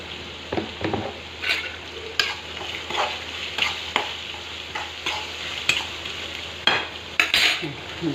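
Chopped onions with salt fry and sizzle in a pan for avarekalu upma, while a spoon repeatedly scrapes and stirs them; close and steady, with no talk.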